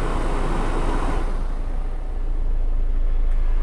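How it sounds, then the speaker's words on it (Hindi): A diesel car engine idling with the air conditioning switched off, a steady low rumble and hum heard from inside the cabin, continuous and fairly loud with no talking. "डीजल गाड़ी होते हुए भी इसमें साउंड बहुत ही कम है"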